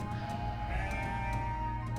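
A sheep bleats with a wavering, nasal call over a steady low outdoor rumble, moderately close.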